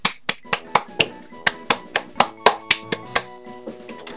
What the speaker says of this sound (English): That was a round of applause of mine.